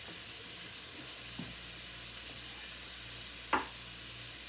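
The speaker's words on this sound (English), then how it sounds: "we're waiting for the onions to saute" Onions saute in a pan with a faint, steady sizzle throughout. Two brief clicks break it, the second one sharper.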